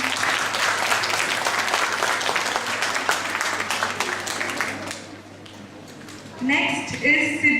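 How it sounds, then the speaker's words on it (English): An audience at a school prize distribution for a pencil colouring competition applauds steadily for about five seconds. The clapping then fades out and a voice begins speaking over a quieter room. "Let's have a round of applause, please"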